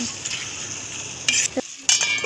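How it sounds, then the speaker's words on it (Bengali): Chicken kosha cooks in a covered pan, a soft steady sizzle with a few sharp clatters and scrapes as the lid comes off and the chicken is stirred, close by with no speech. "রেখে দেওয়ার পর 3 থেকে 4 মিনিট পর আবার খুলে একটু নেড়ে নেব।"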